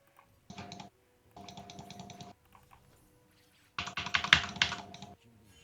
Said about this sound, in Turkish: Senin mouse sesi çok geliyor.